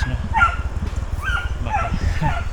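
A dog yips and barks several times at a distance, outdoors on a morning walk near a hanging bridge in Banga, Lagawe, Ifugao, over steady footsteps and rustling noise.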